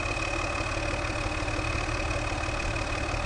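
A video game tractor engine idles steadily, a continuous close rumble with a faint high whine and no talking over it.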